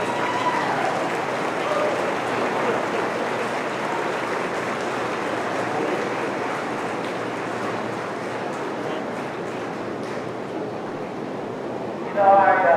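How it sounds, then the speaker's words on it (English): Sustained crowd applause fills the hall at a county 4H beef show at the LaPorte County Fair, a steady dense clapping wash at even loudness throughout, with a brief louder burst near the end. "Let's stand up and give these young people a nice round of applause."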